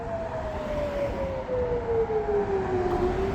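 A single air raid siren tone wails steadily and slowly falls in pitch, sounding fairly distant over a constant low rumble of background noise, near Jerusalem's northern wall.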